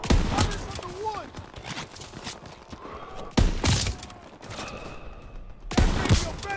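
Gunfire from the Call of Duty WWII video game, loud bursts of shots and explosive cracks hitting in clusters amid battle noise, with soldiers' shouted voices mixed in.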